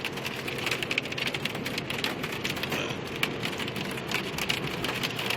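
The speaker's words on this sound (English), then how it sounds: "I don't know if you can hear that, but it's hailing right now." Hail falls on a car being driven in Redding, California, producing a dense, constant rattling patter across the roof and windows over a low road rumble, with no talking.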